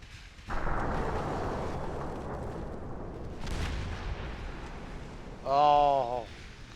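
Naval guns firing high-explosive shells in the warship game Ultimate Admiral Dreadnoughts: a broad rumbling barrage swells and rolls on, with a second heavy boom midway and a tonal whistling burst near the end.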